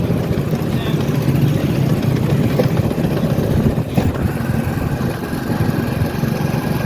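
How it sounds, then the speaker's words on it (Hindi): A motorcycle engine idles and runs steadily nearby, a continuous low rumbling drone that holds for several seconds, with faint background voices. "यासीन बड़ी अच्छी बाइक चला रहा है जी।"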